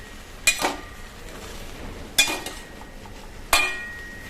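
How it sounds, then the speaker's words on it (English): A spoon stirring spinach in a pot of Spanish spinach and chickpea stew, giving three separate scraping clinks spaced about a second and a half apart over a low, steady background hiss. "Mixing it so it starts to wilt."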